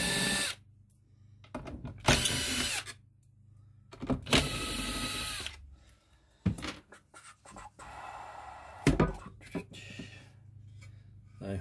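A power screwdriver backs machine screws out of a KEF Reference 104 speaker's bass radiator in several separate close whirring bursts, with quiet pauses between them.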